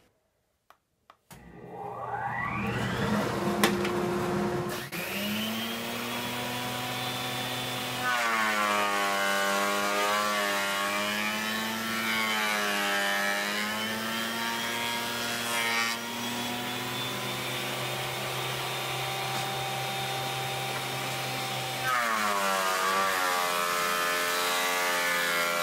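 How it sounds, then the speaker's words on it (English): A power planer thicknesses a white oak board about an inch thick, running steadily for around twenty seconds with a whining tonal drone that shifts in pitch as the cut load changes, heard close with no talking. "It's time to get out the planer."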